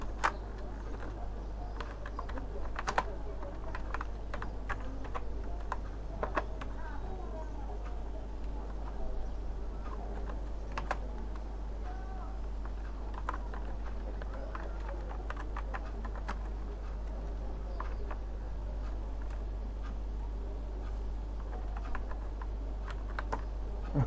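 Typing on a computer keyboard during video editing in Adobe Premiere Pro, scattered irregular key clicks and taps over a steady low hum for the whole stretch, close but not loud, no clear talking.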